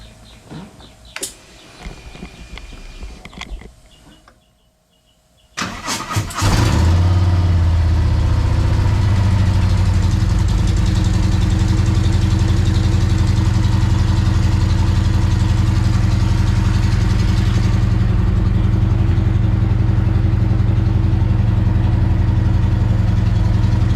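Harley-Davidson Touring motorcycle engine starts after a few seconds of quiet handling noise, catching with a burst and then settling into a loud, steady, deep idle that rumbles on close by without talk.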